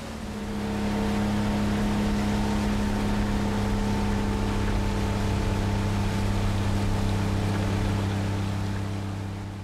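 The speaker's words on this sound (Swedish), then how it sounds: "Kustbevakningens båt passerar under Seskaröbron." Coast guard boat passing under the Seskarö bridge in the Haparanda archipelago, its engine a steady, loud drone that swells in and holds even throughout.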